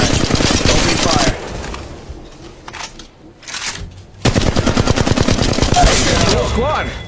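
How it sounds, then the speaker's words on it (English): Rapid automatic gunfire in the mobile shooter Apex Legends Mobile, loud and close, in dense bursts at the start and end with a quieter gap between. Voices talk over the shooting. "Ah, getting shot at. I got a bad guy. Open fire."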